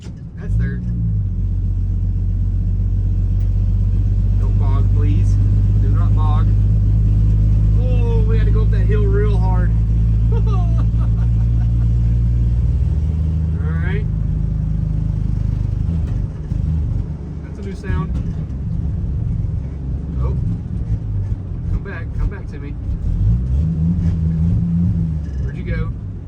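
An old 300,000-mile farm truck engine labors uphill in low gear, a loud, heavy rumble that strains and then eases off, with people talking over it throughout.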